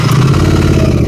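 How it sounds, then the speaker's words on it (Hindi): A Royal Enfield Continental GT 650 motorcycle engine idles steadily up close, a continuous low throbbing rumble with no voices over it. "ये इसकी नॉर्मल साउंड है।"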